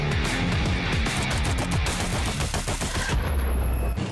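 Dense, continuous gunfire in an action film battle scene from Wolf Warrior 2, rapid automatic bursts layered with single shots and booming impacts, loud and unbroken throughout.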